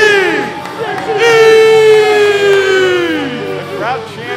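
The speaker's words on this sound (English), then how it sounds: "just luscious rounds of applause and cheers for these two great movie trivia minds" A studio crowd at a movie trivia match cheers loudly with whoops and shouts, a dense swelling roar that rises, holds and then tapers off.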